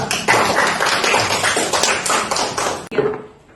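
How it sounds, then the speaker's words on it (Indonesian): An audience applauds a student presentation group in a classroom, a dense, close burst of clapping lasting a few seconds before cutting off abruptly, with a brief trailing patter. "Oke, kita berikan aplaus untuk kelompok 3."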